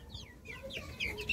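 Backyard chickens cluck and chirp softly while pecking at crushed corn, several birds close by making short rising calls over a faint background.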